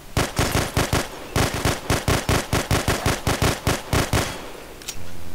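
Rapid bursts of gunfire from the video game Hidden: Source, a long run of loud, evenly spaced shots crackling in quick succession before stopping abruptly near the end.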